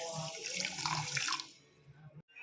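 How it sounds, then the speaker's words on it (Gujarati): Water is poured onto half a cup of sugar to make syrup, a close, splashy stream lasting about a second and a half, then dropping to faint handling noises, with no voices. "તેની અંદર આપણે પાણી એડ કરીશું."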